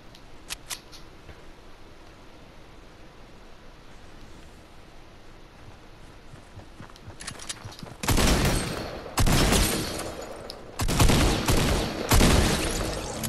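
Fortnite gunfire: after a quiet stretch of low background noise, loud rapid bursts of shots break out in several volleys, each lasting about a second or two.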